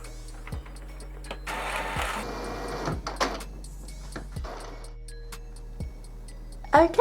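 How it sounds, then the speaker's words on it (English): An Epson Stylus Photo R285 inkjet printer runs a nozzle check page, giving repeated sharp mechanical ticks and clicks at a steady rhythm over a low motor hum, with bursts of carriage whirring in between, close and fairly quiet. "the printer should do a nozzle check"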